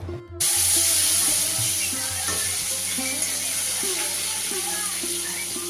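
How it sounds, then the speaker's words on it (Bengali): Hot oil sizzles and hisses steadily as pointed gourd fries after a sudden start, with faint tonal background music running underneath. "এখন আমি পটলগুলো ভেজে নিচ্ছি"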